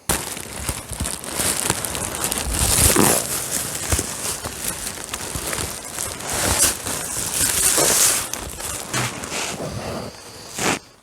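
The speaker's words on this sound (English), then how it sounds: "It's just sort of something wrapped in a plastic bag." Shoes wrapped in a plastic bag being unwrapped up close, with bursts of crinkling and rustling plastic and a few sharper crackles spread unevenly across the stretch.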